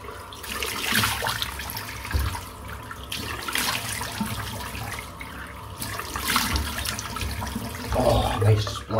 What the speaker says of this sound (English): nice splash of cold water.